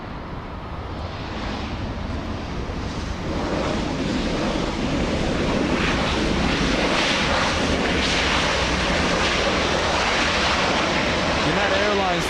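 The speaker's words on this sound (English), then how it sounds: "United Airlines 1400 flying in from Seattle, Washington, a 2-hour, 11-minute flight." A United Airlines airliner, a flight from Seattle, comes in to land. Its broad roaring rush builds steadily and stays loud throughout, mixed with wind noise on an outdoor microphone.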